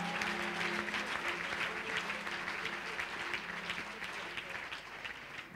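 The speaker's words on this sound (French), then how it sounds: "Est-ce que quelqu'un peut bien acclamer le Seigneur ce matin?" A church congregation applauding in praise, sustained dense clapping from many hands that holds steady throughout, with a faint held musical tone underneath.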